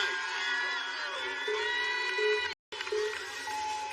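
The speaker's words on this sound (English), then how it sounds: "And some of the other members are cheering her on tonight." Members of a support group cheer and whoop for a competitor at a nighttime American Ninja Warrior course, a steady crowd roar with shouts rising over it, cut by a brief dropout.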